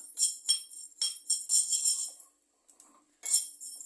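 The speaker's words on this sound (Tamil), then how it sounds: "பொரியறது நல்லா தெரியும் பாருங்கள். பாருங்கள், சவுண்ட் நல்லா வருது." Dried raw mango pieces fry in oil over low heat, giving close, crisp crackling bursts that come in quick clusters, pause briefly, then crackle again.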